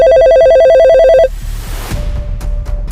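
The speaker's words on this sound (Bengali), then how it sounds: "ইমাম সাহেবকে একটা ফোন দেই।" A telephone rings with a loud, steady electronic ringtone that pulses in quick repeated bursts for about a second, then cuts off abruptly, leaving a quiet room with a few faint clicks.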